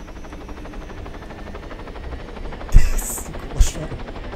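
Helicopter in the military video game Arma 3, a steady rotor drone throughout with a few sharp thumps near the end.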